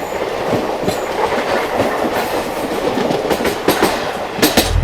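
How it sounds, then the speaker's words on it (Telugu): A train passes at speed with a steady heavy rumble and rhythmic clickety-clack of wheels on the rails, loud and continuous throughout. "తిరుపతి నుండి హిస్సార్ వెళ్ళే స్పెషల్ ఎక్స్ప్రెస్ ఇదే."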